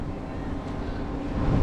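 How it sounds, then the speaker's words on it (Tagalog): Strong wind sweeps across the Pililia wind farm in Rizal, a loud, steady broadband roar buffeting the microphone that swells slightly toward the end, with no other clear sounds. "Lakas ng hangin"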